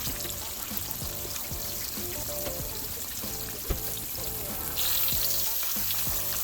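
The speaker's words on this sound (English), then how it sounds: "You're gonna fry them for about 5 minutes on each side." Chicken fries in a cast iron pan for chicken parmesan, a steady close crackling sizzle with scattered pops that grows a little louder toward the end.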